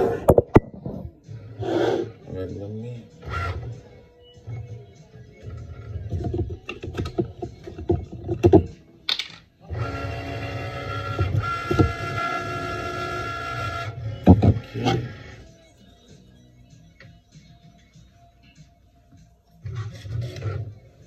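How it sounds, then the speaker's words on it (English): A Cricut Maker cuts the outline of a sticker decal with a mechanical whirring buzz from its carriage motor in a sustained stretch, framed by clicks, knocks and intermittent handling sounds nearby. "It's cutting my sticker out, the outline of it."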